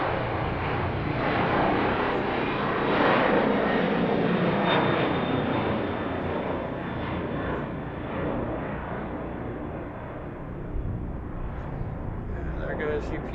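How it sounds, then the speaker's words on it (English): A heavy UPS cargo jet departs Harrisburg airport at night, a steady, distant engine roar that swells and then slowly fades, with a faint high whine above it. "This will be our first heavy departure of the night."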